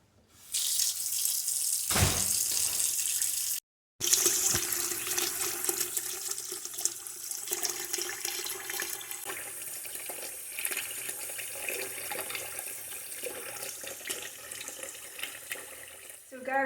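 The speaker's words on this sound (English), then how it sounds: "we're going to fill it up with some cold water." A kitchen tap runs steadily as cold water fills a pot over chicken for a homemade stock, a continuous splashing hiss broken by one brief pause.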